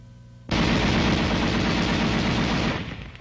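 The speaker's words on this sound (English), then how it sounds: "The M73 can be fired electrically from the gunner's position" An M73 tank machine gun firing one sustained automatic burst, a dense rapid rattle of rounds starting abruptly and running loud and close for over two seconds before tapering off, with no voices.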